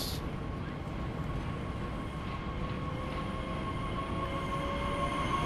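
A train pulling out of Dresden main station, a steady broadband rumble of wheels and rolling stock with a faint sustained tonal whine, loud and continuous throughout.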